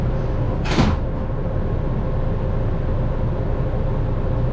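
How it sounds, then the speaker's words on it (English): Doors of the Las Vegas Monorail sliding shut at MGM Grand station: one quick whooshing slide near the start over a constant low train hum and cabin rumble. "The doors are closing. Please stand clear."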